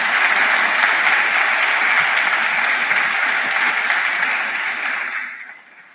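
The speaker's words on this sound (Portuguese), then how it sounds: "podemos dar uma salva de palmas" An evening audience at a Catholic youth ministry talk gives a sustained round of applause, dense and even, holding steady before fading out near the end.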